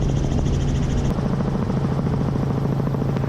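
Helicopter on a lap around NOLA Motorsports Park, its rotor beating in a steady, loud, close rhythmic thump with a constant engine whine throughout.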